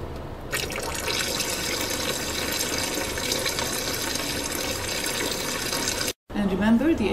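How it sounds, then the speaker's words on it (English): Running tap water pours steadily over a stained light-microscopy slide being rinsed after hematoxylin, a continuous close splashing stream that cuts off abruptly near the end, followed by a brief murmur. "Wash it under running tap water."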